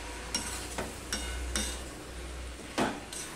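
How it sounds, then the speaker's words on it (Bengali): A spatula scrapes and stirs cabbage curry in a kadai over a low gas flame, giving a few soft, separate scraping strokes against a quiet background. "মাঝে এসে আমি দুবার এভাবে নেড়ে দিয়েছি"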